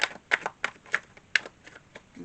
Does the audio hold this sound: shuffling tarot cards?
yes